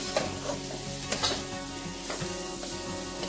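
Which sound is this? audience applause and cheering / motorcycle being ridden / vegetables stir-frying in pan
vegetables stir-frying in pan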